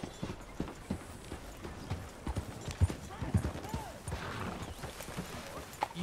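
Horse hooves clip-clop at a steady walking rhythm in the Red Dead Redemption 2 video game, close and fairly loud, with faint ambient sounds and a few sharper knocks between the steps.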